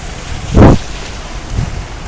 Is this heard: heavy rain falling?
yes